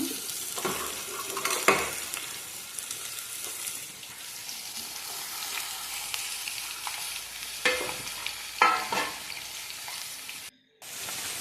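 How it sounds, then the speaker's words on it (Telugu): Chopped ridge gourd pieces frying in oil tempered with spices, a steady close sizzle broken by several scraping stirs and clinks of a spatula against the pan, with a short silent gap near the end. "స్టవ్ మీద పాత్ర పెట్టుకుని కొంచెం ఆయిల్లో తాలింపు పెట్టా అందులో ఈ పొట్లకాయ ముక్కలు వేస్తున్నాను"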